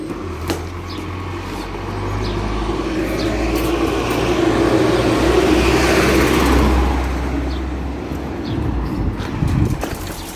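A car passes by outside a supermarket, its engine swelling to a loud broad rumble midway and then easing off, steady road noise throughout with no talking.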